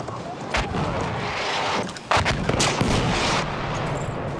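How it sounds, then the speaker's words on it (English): Dense artillery barrage and gunfire in a Battlefield 1 Rush match, a constant rumbling roar with sharp cracks and blasts on top, loud and close throughout. "The enemies are being halted by our artillery barrage."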